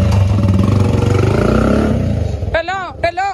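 A motorcycle engine revs loudly with a steady throbbing rumble, then drops away as someone talks over it near the end.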